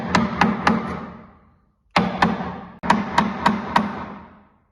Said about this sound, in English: it's much, you have to hit the chisel much harder